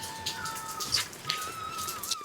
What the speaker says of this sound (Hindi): कोयल कोयल का ही तो है साउंड।